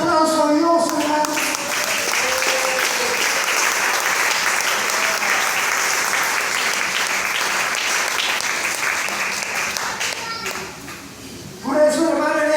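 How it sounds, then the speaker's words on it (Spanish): A church congregation applauds loudly and continuously for about eleven seconds, a dense wash of clapping that fades briefly near the end before swelling again. "denle ese aplauso a Dios, hermano"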